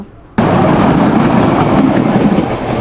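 A train at Santahar railway junction in Bogura, Bangladesh, bursts in as a loud, sustained rumble that holds steady with no voices.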